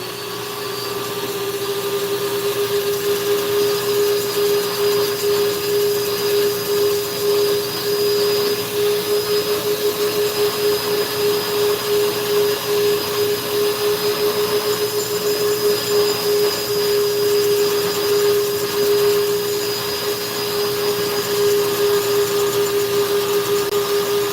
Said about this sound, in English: this is a VEVOR 780 watt flex shaft carving tool, rotary tool. And then the burr I have in here is a KUTZALL extreme flamer burr